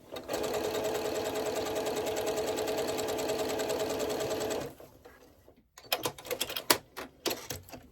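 A sewing machine stitching a foundation paper pieced quilt block runs at a fast, even whir for several seconds, stops, and then gives way to sharp, close clicks and handling noises.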